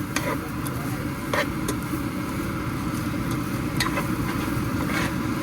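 Chopped ginger cooking in a pan for Italian sausage pulav, stirred with a utensil: a continuous low sizzle with a few sharp scraping clicks of the stirring, close by, and no one speaking.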